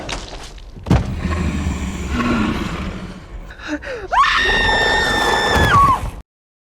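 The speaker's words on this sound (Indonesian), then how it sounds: "padahal anak-anaknya berteriak ketakutan" A scene from the film Nosferatu: a heavy thud, a tense rumbling stretch and a gasp, then a long, high, piercing scream rising over the noise before it cuts off abruptly.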